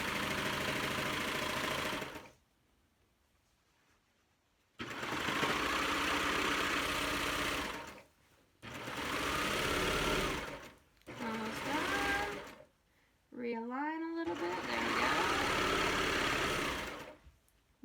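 A serger sewing machine stitches a pillowcase in five steady motor-driven runs separated by short pauses, loud and close, with a brief squeak in the last run.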